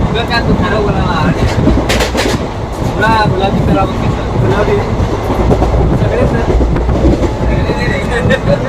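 A moving train rumbles with continuous rail noise and rhythmic wheel clatter throughout, loud and steady, with voices talking intermittently over it.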